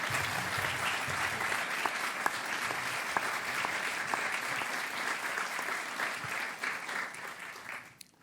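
A crowd applauds steadily at a political gathering in Paris, a dense wash of clapping from many hands that continues evenly before tapering off at the end.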